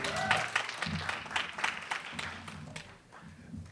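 A crowd claps in a brief round of applause, dense and fairly close, tapering off toward the end.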